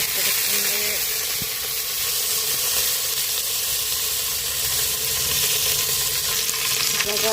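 Curry leaves crackle and sizzle in hot oil in a pan for tempering, a loud, steady, dense frying hiss that fills the whole stretch with no pause.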